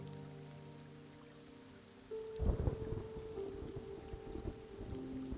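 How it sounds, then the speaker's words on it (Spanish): A nighttime storm: steady, soft rain hisses until a deep, loud thunderclap rolls in and rumbles on under continuing rainfall, with no voices. "Por la noche la tormenta se incrementó. Los relámpagos y el ruido del aire meciendo árboles terminaron por despertarme."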